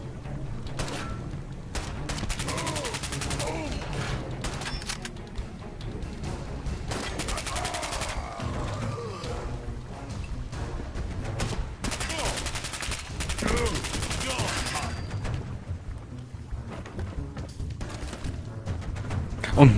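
Rapid Fallout 4 gunfire crackles in repeated bursts over a steady low rumble, with volleys of shots stacking into dense barrages.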